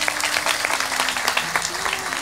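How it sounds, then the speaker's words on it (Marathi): Applause from an audience at a kirtan, a dense patter of many hands clapping steadily at moderate loudness for about two seconds, with faint tonal sound running underneath. "टाळ्यांचा पाऊस"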